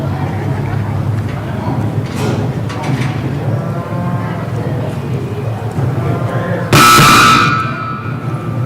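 A loud electronic buzzer blares abruptly near the end at a cattle dog trial in the Open Cattle round, cutting over a steady din of lowing cattle and an announcer's voice.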